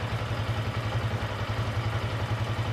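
A 2025 Yamaha R15m motorcycle idles close by with a steady, rapid low pulsing beat and a mechanical clatter on top, holding an even level with no clear rev rise and nobody speaking.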